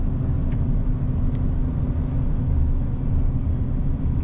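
A long-haul truck towing a trailer slows on a downhill road using engine braking through the gears, giving a steady, loud low-pitched engine drone and rumble heard close from inside the cab.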